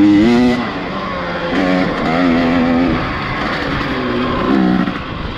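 A modified dirt bike with cut-down bars and a fresh oil and air-filter change, revving hard on a hill-climb trail; the loud, close engine whine rises and falls steadily through several throttle surges with no talk.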